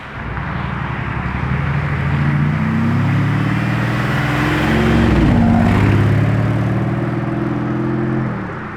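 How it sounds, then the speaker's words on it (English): A Lamborghini Revuelto supercar approaches fast, its engine a loud, sustained roar with rising revs that swells to a peak near the middle, then holds strong as it passes close by. "Yo, a very fast Revuelto is approaching!"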